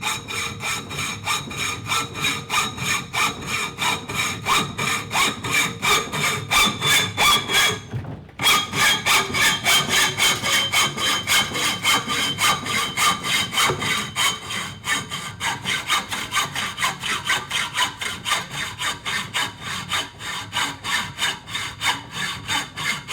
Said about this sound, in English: You can use standard hacksaw.